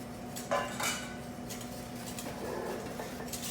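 Panna cotta cream mixture whisked in a bowl, giving a few clinking strikes of metal against the bowl and then a steady soft scraping swirl, close and fairly quiet.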